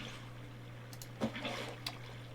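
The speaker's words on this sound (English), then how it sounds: "Pick up water, go over here, thump water right there." Water block being placed in the Minecraft Skyblock game: a faint, soft watery whoosh with a couple of brief splashy bursts over a steady low hum.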